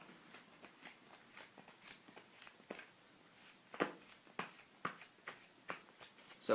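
A deck of sleeved trading cards is sleeve shuffled close by, producing a quick series of soft, irregular riffling and slapping bursts that grow slightly louder toward the end, with no talking.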